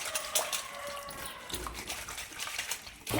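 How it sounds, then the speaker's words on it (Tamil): Water splashes and trickles as dried fish is rinsed by hand in a home village kitchen, a close, gentle sloshing with small drips and a brief louder splash near the end. "கருவாடு வந்து நல்லா வந்து தண்ணியில் அலசி எடுத்துக்கலாம்"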